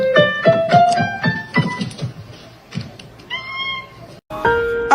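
Several loud, close cat meows in quick succession, some drawn out and rising, with short pauses between them and a few soft thumps.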